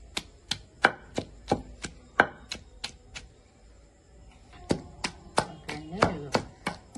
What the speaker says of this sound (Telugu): ఇలా కచ్చా పచ్చగా దంచాలండి